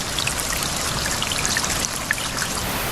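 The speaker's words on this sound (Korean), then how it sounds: "이 스프링클러로 제가 하려던 말씀을 이어가보죠." A water sprinkler sprays into a puddle, producing a steady close pattering trickle of droplets hitting water with no voices.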